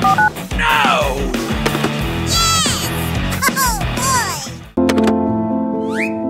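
Phone keypad tones beep in quick succession in a Roblox animation, mixed with cartoonish sliding sound effects, then a ringing tone pattern begins; loud and close, with no talking over it.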